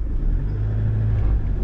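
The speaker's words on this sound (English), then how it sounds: "start the engine first" Car engine running steadily on a hill-country drive around Mansfield, a close, continuous low rumble with a slight rise and fall in level and no clear cranking or ignition moment.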